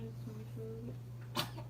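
A person lets out a single sharp sneeze near the end, brief and moderately loud, after a quiet stretch with a steady low hum and faint indistinct sounds.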